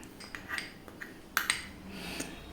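A utensil scrapes and clinks against a bowl while vegetarian mayonnaise is mixed into egg sandwich filling, with a few light taps and a brief louder clatter, close and quiet.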